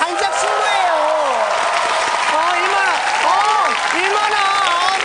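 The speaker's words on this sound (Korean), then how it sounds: "박수." A studio audience at a Korean stand-up comedy taping claps and cheers loudly throughout, with excited voices and talk rising over the continuous applause.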